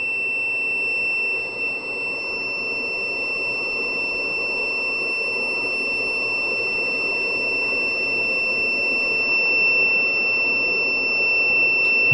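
Low-battery alarm on a UPS unit used with a 3D printer, a continuous piercing high-pitched electronic tone sounding steadily and loudly throughout, with no talking.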